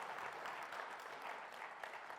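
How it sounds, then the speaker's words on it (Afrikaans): Hands clapping from a church congregation, a fairly soft, continuous patter of many claps with faint individual strikes standing out, no speech over it. "Nou moet ons kan hande klap"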